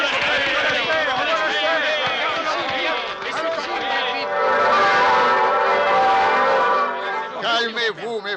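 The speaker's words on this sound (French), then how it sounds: "écoutez, les cloches, les moines nous préviennent" Church bells ring out as a warning from monks, a dense layered pealing mixed with crowd chatter and running voices in an animated scene.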